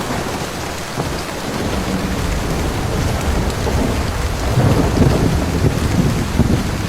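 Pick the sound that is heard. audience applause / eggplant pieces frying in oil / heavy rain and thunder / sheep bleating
heavy rain and thunder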